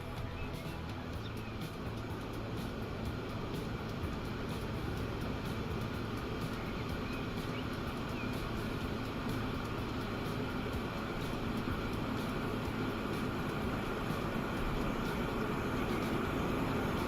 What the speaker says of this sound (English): Let's watch the train go.